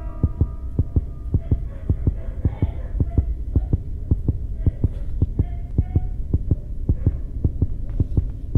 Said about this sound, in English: There's heartbeat every time you carry the teddy bear.